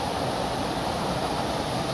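A waterfall on Mount Monroe in New Hampshire roars as a steady, continuous rushing wash, heard from a distance with no other sounds over it.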